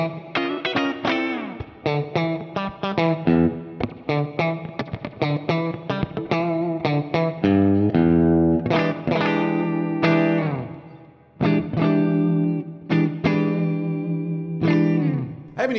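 Heavily distorted Squier Affinity Telecaster electric guitar plays a run of chords and single notes, some sharply picked, others ringing out long with a thick, saturated tone.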